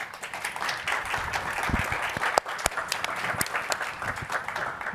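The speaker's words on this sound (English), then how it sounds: "Let's give them a round of applause" Applause from an audience at a design presentation in Chicago, a steady wash of clapping with a few sharper claps standing out, moderately distant and continuous.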